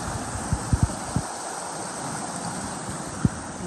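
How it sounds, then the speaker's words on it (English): A creek in the Alaskan wilderness rushes steadily beside a campsite, a dense continuous wash of water noise with a few soft low thumps early on and near the end. "There's a creek for water right here."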